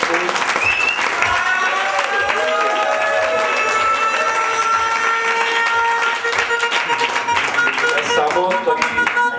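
An audience claps for a poetry workshop participant at a slam poetry show in Žilina, Slovakia. The applause is loud, dense and sustained and fills the whole stretch with no break.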